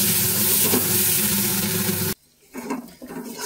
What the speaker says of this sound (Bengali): অল্প একটু কাশ্মীরি লঙ্কার গুঁড়ো, মশলাটাকে কষিয়ে নেব